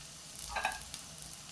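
Chopped tomato dropped into softened carrots and vegetables frying in a pan, a short soft sizzle and stir swelling briefly near the middle, close and fairly quiet.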